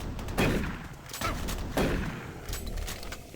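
Chaingunner enemies in Doom 3 firing machine guns, heard as several heavy bursts of rapid gunfire rising and falling over a few seconds, fairly loud with no talking.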